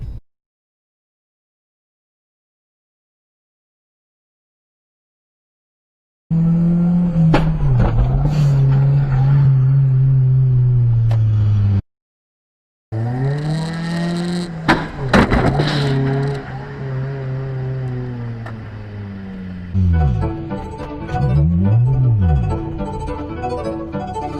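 After several seconds of silence, a car engine drones close by in a steady, loud hum that shifts pitch as the vehicle pulls away during a roadside confrontation.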